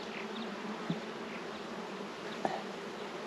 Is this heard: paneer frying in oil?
no